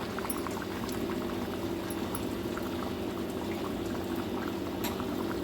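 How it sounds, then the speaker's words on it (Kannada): A pot of mixed vegetable gravy bubbling at a steady boil, with a dense continuous burble and small pops close by, unbroken throughout and no voices. "ಬೆಂದು ತರಕಾರಿಗೆ ಹಿಡಿಬೇಕಲ್ವ, ಹಾಗಾಗಿ ಇವಾಗ ಬೇಯ್ತಾ ಇದೆ"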